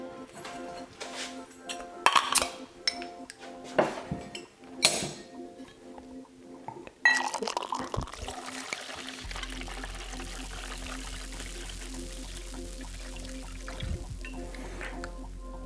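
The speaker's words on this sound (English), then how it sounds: "I'm going to start by putting some beer into the glass" Beer pours into a glass for a sake bomb after a few light clinks of glassware, then runs in a steady close glugging stream until the end.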